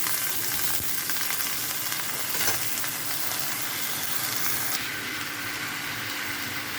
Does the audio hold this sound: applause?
no